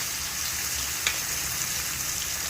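Marinated meat frying in hot oil with whole spices for a home-made biryani, a dense, even sizzling hiss throughout with one small pop, close and steady, no voices.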